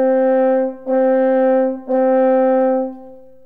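French horn tonguing repeated notes on G, three sustained tones of the same pitch with crisp separated attacks, played close and loud without any talking.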